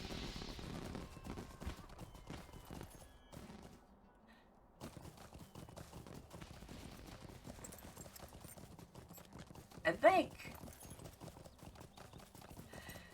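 Steady, rhythmic video game horse hoofbeats clip-clop at a brisk pace for several seconds in Lord of the Rings Online, fairly quiet, with a short whinny partway through and a brief spoken phrase.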